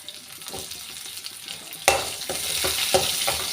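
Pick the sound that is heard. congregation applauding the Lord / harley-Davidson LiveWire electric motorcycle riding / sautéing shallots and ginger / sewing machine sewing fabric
sautéing shallots and ginger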